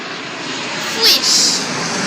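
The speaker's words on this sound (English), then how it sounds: "The planes come by, they go really close." A fixed-wing airplane passes close overhead at an air and space museum, its engine roar swelling briefly to a peak and then easing off against steady outdoor noise.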